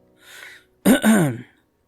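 A single short throat-clearing cough, close and fairly loud, preceded by a faint breathy sound, then silence.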